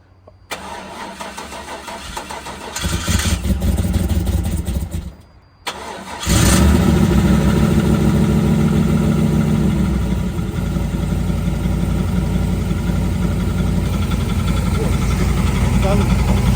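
An LS-swapped van engine cranks, catches and settles into a loud, close, steady run with a rough mechanical ticking from the lifters, after a brief earlier cranking attempt; a voice speaks over it.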